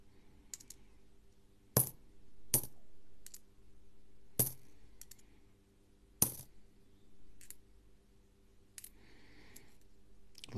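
Australian 5 cent coins being handled during a coin search, a handful of sharp metallic clinks and drops spaced a second or two apart over quiet background clicking.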